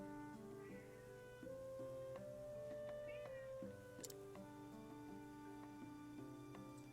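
A cat meows in the video game Octopath Traveler, with a few short mews over steady layered game music that runs through the whole passage.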